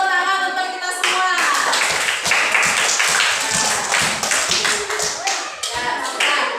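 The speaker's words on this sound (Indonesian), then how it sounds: "Berikan tepuk tangan untuk kita semua." A fourth-grade classroom of children clapping loudly together, a dense continuous burst of applause lasting several seconds close by.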